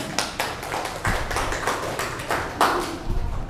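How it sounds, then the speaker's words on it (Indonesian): Scattered clapping from a small group of students at a school presenter club session, a handful of uneven claps and taps close by with no talking over them. "Beri tepuk tangan yang meriah."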